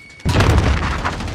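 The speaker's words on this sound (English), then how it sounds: "Throwing grenade!" A grenade detonates in Warzone with a sudden, sharp, loud boom after a brief quiet moment, then a dense rumbling tail that carries on to the end.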